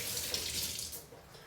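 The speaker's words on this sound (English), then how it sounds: "You rinse off this ice that fell on the floor." Ice cubes rinsed under a running kitchen tap while mixing a strawberry basil gin gimlet, a steady close hiss of flowing water splashing into the sink with no talking.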